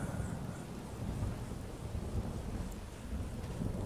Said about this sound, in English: another rainy day in Falskaar.